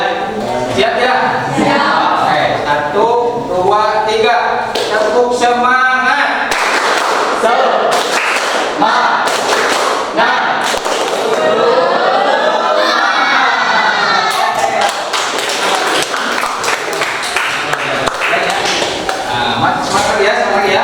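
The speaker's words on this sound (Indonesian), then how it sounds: "Tepuk semangat." A school class performs the 'tepuk semangat' spirit clap routine, bursts of rhythmic group clapping mixed with loud children's chanting and a teacher's voice leading the patterned claps.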